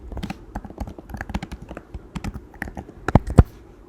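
Python code being typed on a computer keyboard: a steady run of close, crisp key clicks over about four seconds, with two louder strikes near the end, no voices.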